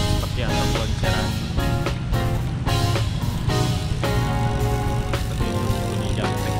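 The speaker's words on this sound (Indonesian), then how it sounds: "Seperti itu bunyi jangkreknya." The rear wheel freehub of a Genio Breaker 2.0 road bike ratchets with rapid clicking as the wheel spins, close and steady, heard beneath continuous talking.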